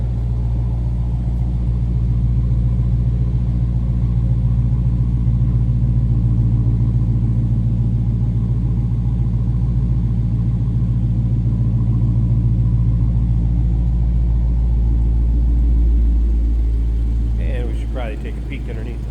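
A 2022 Dodge Challenger SRT Hellcat Redeye idles close by with a deep, steady, loud rumble that holds for nearly twenty seconds before easing slightly at the end.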